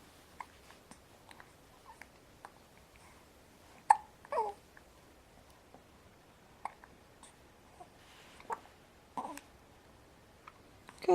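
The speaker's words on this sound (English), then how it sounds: "Got the hiccups." Baby hiccups, quiet and close: sparse short sharp catches at irregular intervals over near silence, with a few soft vocal sounds between them.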